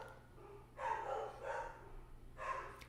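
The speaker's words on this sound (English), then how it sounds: "You can hear my dogs." Dogs bark at an Amazon delivery outside, a few muffled bursts of barking from somewhat far off, separated by short pauses over a quiet background.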